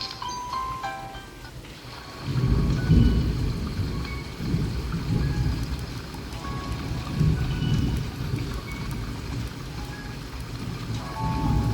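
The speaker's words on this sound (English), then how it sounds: "Can you guys hear the rain? It's raining pretty hard here." Steady heavy rain pours down with a dense rumbling wash, occasional deeper swells suggesting distant thunder, no voices.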